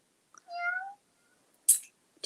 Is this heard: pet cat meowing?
yes